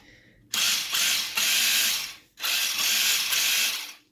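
A Traxxas TRX-4 RC truck shifts between high and low gear and unlocks its differentials: loud, whirring mechanical bursts from the small servos, three close together, each lasting about a second.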